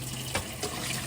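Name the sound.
filling and rinsing food in water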